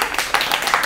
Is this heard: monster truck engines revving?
no